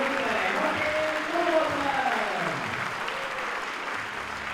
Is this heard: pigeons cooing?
no